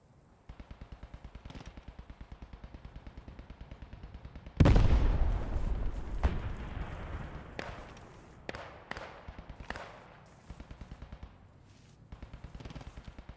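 Rapid, steady gunfire crackles in a fast rhythm in the WWII video game Post Scriptum, broken by a loud explosive blast, followed by scattered single shots and bursts at a distance.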